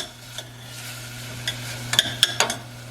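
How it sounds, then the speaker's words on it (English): Spinach and broccoli sautéing in a pan, a soft low hiss under scattered clinks and scrapes of a utensil stirring, the tapping growing busier toward the end. "I'm going to put the spinach and the broccoli in, just to saute it a little bit before I put it in the casserole dish"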